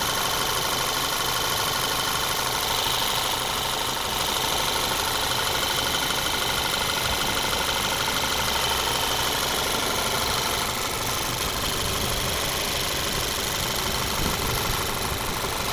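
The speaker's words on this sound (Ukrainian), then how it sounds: "Хороший звук двигуна." A 2008 Audi A3 with a 1.8-litre turbocharged petrol engine and automatic gearbox idles smoothly and evenly, a steady close-up engine hum with no voices throughout.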